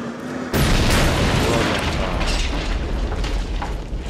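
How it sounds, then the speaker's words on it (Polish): A sudden loud boom from an explosion in the video game Hard Reset erupts and then rolls into a long, dense rumble of debris and crackle that fades slowly, with no voices. "Ciekawie to wybuchło."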